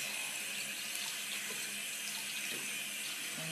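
Water runs continuously from a tap while hair is washed, a steady close hiss of flowing water with no talking over it.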